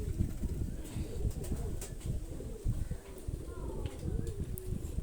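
A pure Shkulali golden running hen pigeon coos softly and repeatedly at close range, mixed with faint background voices and light shuffling.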